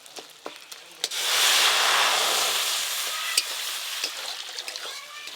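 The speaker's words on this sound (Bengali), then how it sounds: "আমের চাটনি বানানোর জন্য কড়াতে প্রথমে জল দিয়ে দেবো" Water poured into a hot wok to start mango chutney, bursting into a loud rushing hiss and steam sizzle that slowly fades, framed by clattering utensil knocks before and after.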